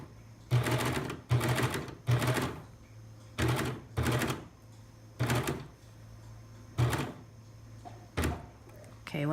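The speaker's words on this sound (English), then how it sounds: "I'm gonna just over stitch over my old lines a couple, maybe 5 or 6 stitches here" Baby Lock serger over-stitching a lace inset seam, with short whirring bursts of stitching repeated in a stop-start rhythm, close and moderately loud, over a faint background hum.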